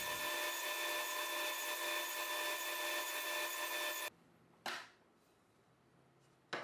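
A table saw hums loudly and evenly while clearing waste wood for a mitered half lap joint, then cuts off abruptly, followed by a sharp clack and quiet room tone.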